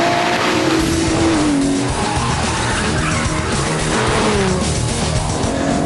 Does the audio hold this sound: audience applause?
no